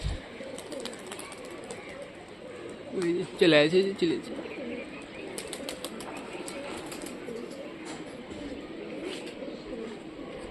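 Pigeons of an old Rajshahi tumbling breed coo faintly during a display, with one brief louder burst of calls and wing flaps midway, set against steady outdoor background noise while someone talks.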